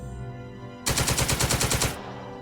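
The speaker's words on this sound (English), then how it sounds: "Shooting at them in the street and they're missing." Burst of machine gun fire from the Stalingrad-set wargame Second Front, a rapid, loud rattle of about a dozen shots lasting just over a second, standing alone over a quiet background hum.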